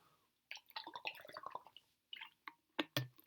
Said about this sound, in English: I'm going to take a drink of water to prepare myself.